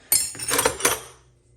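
Vintage metal wrenches clink together as they are handled, giving a few bright, close metallic chinks and rattles in quick succession that fade out after about a second.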